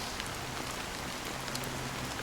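Rain falls steadily in a dense, even hiss of drops striking a surface, with no voices.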